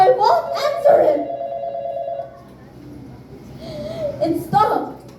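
A telephone rings on stage during a school play, a short bright ring heard under and between a child's spoken lines.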